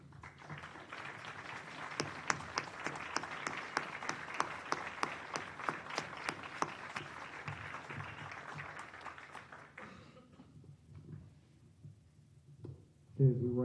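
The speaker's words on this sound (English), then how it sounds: "if we could give them a round of applause here" Audience applauding inductees at a hall of fame induction ceremony, a sustained burst of many hands clapping for about ten seconds before fading into quiet room noise, with a sharp thump near the end.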